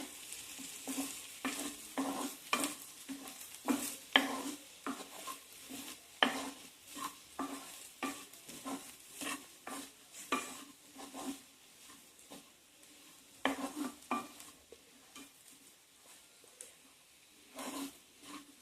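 Potatoes with turmeric powder are stirred in a frying pan, with a soft sizzle under repeated scraping and clinking strokes of a utensil against the pan, close and irregular.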